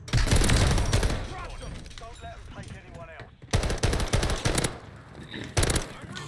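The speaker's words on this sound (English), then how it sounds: "I shot you so freaking many times." Automatic weapon fire in the video game Call of Duty MW3 during a custom match, loud sustained bursts of rapid shots with a brief lull partway through.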